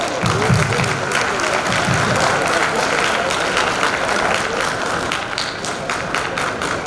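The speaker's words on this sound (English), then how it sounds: "please help me in welcoming Renee Lynn to the stage with a big round of applause" Audience applause at a Diwali gala welcoming a keynote speaker to the stage, sustained clapping from a crowd filling the room evenly throughout.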